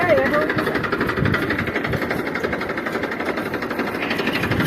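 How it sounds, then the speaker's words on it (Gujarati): A tractor engine chugs steadily on a farm field, a continuous near rumble running the whole time beneath people talking. "અને આમ એક બીજું ટ્રેક્ટર આવી ગયું છે"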